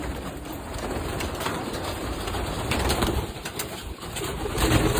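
Pigeons coo steadily at a loft where birds are being fed, the soft repeated calls close and continuous over a constant background hiss, with no talk.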